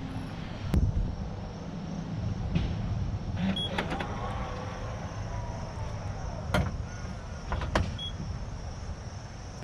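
The aftermarket electric frunk on a Tesla Model 3 runs its motor at the fastest speed, a continuous whirring drone with a gliding whine, punctuated by several sharp clicks and clunks throughout.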